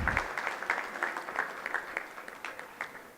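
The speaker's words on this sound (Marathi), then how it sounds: "कृपया जोरदार टाळ्या वाजून आपल्याला स्वागत करायचं आहे" An audience at a youth gathering claps to welcome a guest, with a dense, steady round of applause that starts strong and slowly thins and softens over a few seconds.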